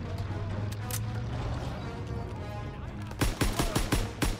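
M1 Garand rifle fire in Call of Duty WW2 lands as a burst of sharp, loud shots in quick succession toward the end, over a constant rumbling game soundscape with scattered faint earlier reports.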